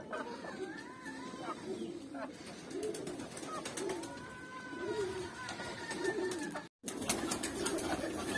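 Pigeons coo repeatedly in low, rolling phrases alongside chickens at a pigeon and poultry coop, with soft clucks and rustling around them and a brief drop-out near the end.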